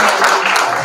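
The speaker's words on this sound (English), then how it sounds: "Can we just clap hands for him?" Audience clapping hands at a media launch event, a loud, dense burst of applause filling the whole short moment.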